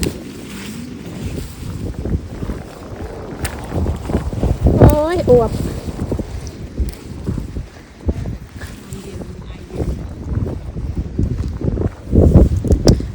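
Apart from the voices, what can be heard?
wind blowing outdoors in Norway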